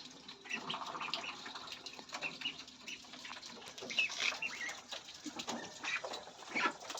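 Chickens fed vegetables peck and scuffle in a lively group, with clucks, soft chirps and brief wing flaps close by over a steady farmyard background.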